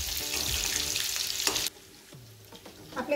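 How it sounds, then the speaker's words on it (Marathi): Soybean chunks deep frying in hot oil over full flame, a dense loud bubbling sizzle that cuts off abruptly, leaving faint clinks and quiet kitchen noise, no talk. "आता आपण हे सोयाबीन सगळे तळून घेऊ।"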